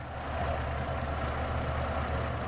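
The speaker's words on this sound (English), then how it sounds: "that whole time the engine was running" A Dodge Nitro engine idles steadily during a basic service, a constant, even hum with a low rumble and no change in pitch or revs throughout, close and fairly loud with no talking over it.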